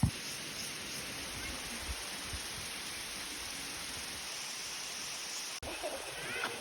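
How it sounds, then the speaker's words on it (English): Running water at the Sticky Waterfall in Chiang Mai, northern Thailand, makes a steady, moderate rush of flowing water that holds constant throughout, heard alone with a brief handling bump near the end. "I can actually hear running water and it says to go this way."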